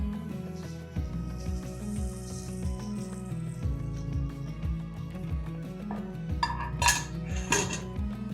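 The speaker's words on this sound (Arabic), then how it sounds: "هنقلب بمعلقه خشب، نخلي كل السمنه تتخلل كل الدقيق" A wooden spoon stirs very hot ghee through flour in a metal pot, giving repeated knocking and scraping strokes against the pan with a faint sizzle, close and rhythmic, with no talking.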